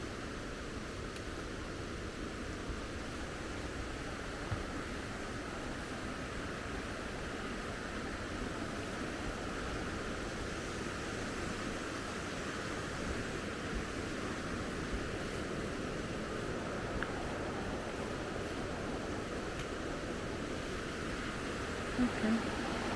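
River water flowing steadily at the end of a woodland path after rain, a continuous broadband rush heard from nearby, unbroken for the whole stretch with no talk over it.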